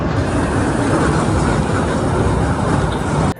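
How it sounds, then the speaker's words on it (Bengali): A train pulls out of a station, a loud, steady rumble of wheels and carriages rolling past close by, filling the whole stretch with no talking. "খালি ট্রেন ছেড়ে দিচ্ছি এটারও ভিডিও লয়ে লিতেছি আমি"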